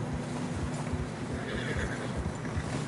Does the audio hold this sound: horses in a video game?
yes